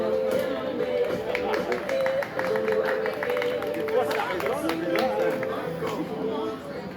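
Crowd applause at the bravade festival in Montfort-sur-Argens, a steady wash of clapping spread across a busy outdoor crowd for about seven seconds, with babble and a voice underneath.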